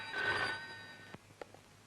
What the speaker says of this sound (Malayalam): മുതലാളി എന്നെ ഫോണിൽ വിളിച്ചു.